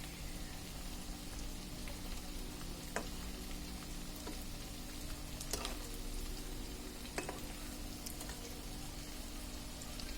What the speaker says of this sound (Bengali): একটু সময় নিয়ে একটু ধৈর্য করে ভাজতে হবে